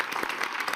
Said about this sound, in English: let's give the Prime Minister a warm applause for coming back after 13 years.